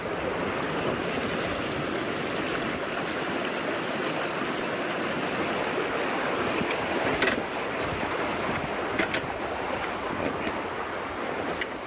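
Steady rushing of a stream beside a hiking trail in the Foothills, a constant broadband wash of running water with a couple of faint clicks, no voices.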